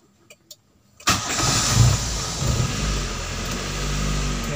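A car engine cranks and catches after a few faint clicks inside the vehicle, then settles into a steady, close idle rumble.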